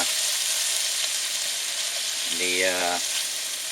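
Scallops, tomatoes, mushrooms and bacon fry in a pan in a truck cab, a continuous close sizzle with someone talking briefly over it near the end.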